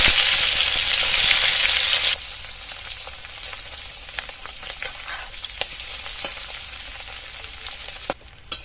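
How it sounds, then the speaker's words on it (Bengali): Eggs drop into smoking-hot mustard oil in a wok and set off a loud, hissing sizzle that settles after a couple of seconds into a steadier crackle with occasional sharp clinks. "এবার ডিমগুলো দিয়ে ভেজে নেব।"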